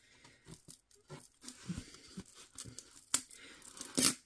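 A strip of Tesa adhesive tape picked at and pulled off the roll, close and quiet, with scattered small crackles and sharper ripping bursts toward the end.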